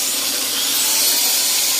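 A loud, steady, high-pitched whir of a running electric drill, continuous and close with no pauses.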